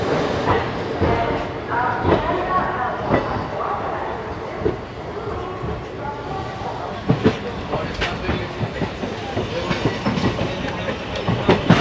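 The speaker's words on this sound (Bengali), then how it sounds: "ছেড়ে দিলে কিন্তু আমাদের ট্রেন শিয়ালদা স্টেশন থেকে" The 13173 Kanchanjungha Express pulls out of Sealdah station, its wheels clacking steadily and rumbling from on board. Scattered clatters sound throughout, and voices are faintly audible in the background.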